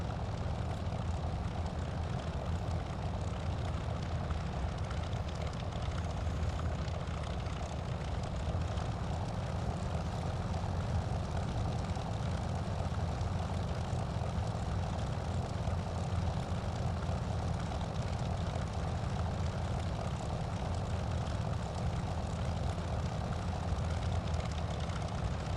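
In Microsoft Flight Simulator, a Curtiss P-40F Warhawk's piston engine drones steadily and evenly through a landing approach, a constant propeller roar with no talking.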